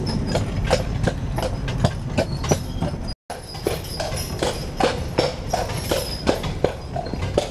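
Horse hooves clip-clop in a steady walking rhythm while pulling a carriage at Disney Springs, crisp and close, with a brief break partway through and no talk.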